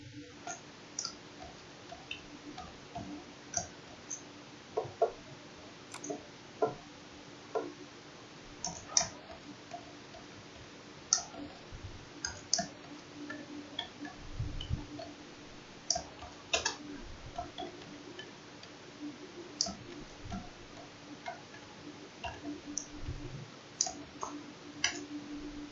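Someone typing code into Notepad on a computer keyboard, irregular soft key clicks in small clusters over a quiet room hum, with no talk.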